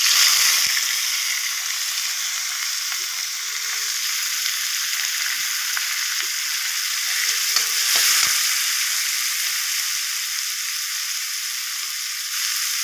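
Steady oil sizzling as chopped onions and chillies sauté in a hot pan, with occasional stirring scrapes and clinks over the continuous frying hiss.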